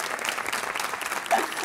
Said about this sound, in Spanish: Fuerte el aplauso para Pasión Vega.